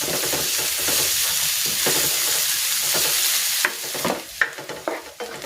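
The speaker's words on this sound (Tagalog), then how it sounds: "Magigisa na ako ng bawang. Igigisa ko na rin dito itong sibuyas." Garlic and onion sauté in hot oil in a pan for chicken sotanghon soup, giving a steady close sizzle. Several sharper scrapes and clinks of stirring break through near the end.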